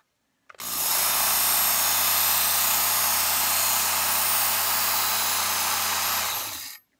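A Work Sharp electric knife sharpener spins up and grinds a knife blade in one continuous, loud, high whirring burst of about six seconds, then cuts off to silence.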